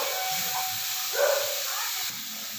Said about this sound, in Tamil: இப்போது நம்ம துருவி வச்சுருக்கிறத இதில் நம்ம போட்டு நல்லா ஃப்ரை பண்ணலாம்.